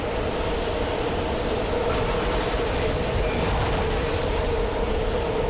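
A moving train in the video game Dead Space 2 produces a steady, loud, dense rushing and rattling roar with faint metallic squeals, continuous throughout with no voices.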